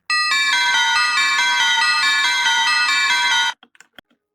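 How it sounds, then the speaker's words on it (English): Synth bells from the Serum synthesizer play a bright, chiming, evenly pulsed pattern for about three and a half seconds, then cut off abruptly, leaving a few faint clicks. "But first we start off with these bells from Serum."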